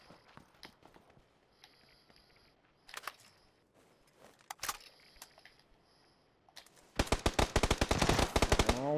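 Automatic gunfire in the battle royale game PUBG: scattered single shots crack out at first, then a sustained rapid burst of machine-gun fire fills the last two seconds, loud and close.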